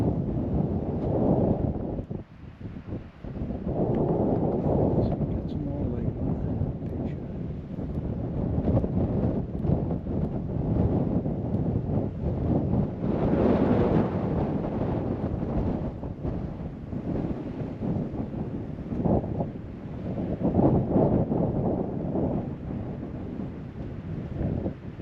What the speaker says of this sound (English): Oh, the wind's getting up again.